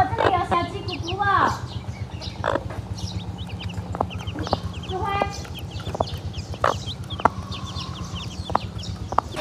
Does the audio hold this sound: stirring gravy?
no